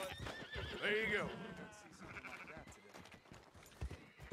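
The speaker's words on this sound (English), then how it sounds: "I was trying to get that sheep in the pen" Sheep bleating in Red Dead Redemption 2, a wavering cry followed by a softer one, with a voice talking over the game sounds.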